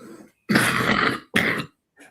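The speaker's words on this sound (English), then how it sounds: "That made him cough." A man coughs on a football fan podcast, two harsh close bursts, a long throaty one then a shorter one, with a faint bit of voice before and after.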